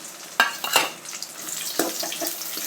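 Cashew nuts sizzle and crackle as they fry in ghee for a payasam, with a few sharp stir scrapes over a steady hiss and no talking.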